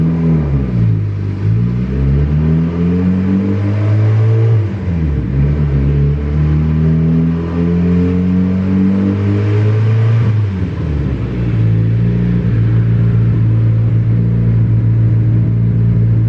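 A loud single-cam Honda D16 P28 engine revs up again and again on a dyno, pitch climbing and dropping in three long surges over a constant droning rumble, no voices.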